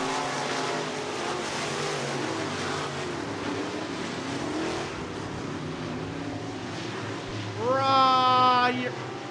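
Sportmod race cars roar around the dirt oval at Stuart Speedway in a steady engine drone under an announcer's commentary, then one engine whines sharply past close by near the end.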